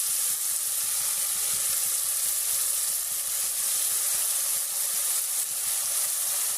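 Garlic paste with chili and turmeric powder frying in oil for a pangas fish curry gives a steady, dense hiss that stays close and even throughout, with faint scraping underneath and no talking.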